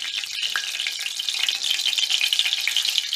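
Raw çiğ börek pastry frying in very hot oil, a dense continuous crackling sizzle with steady close bubbling and no voices.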